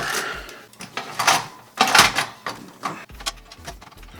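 Plastic and metal clatter as a hot swap drive adapter is fitted into a PC case for a NAS built from old parts, with sliding, clicking and knocking bursts at an uneven pace, close and moderately loud, no talking.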